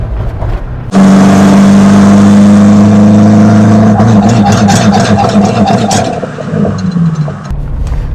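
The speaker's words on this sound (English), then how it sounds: "I'm gonna hit the gas, and I just want you guys to see what it's doing." A Porsche 924 Turbo with a Bosch K-Jetronic fuel distributor fault is pushed to full throttle, a loud, close, sustained engine roar with a steady droning tone that wavers and fades after several seconds.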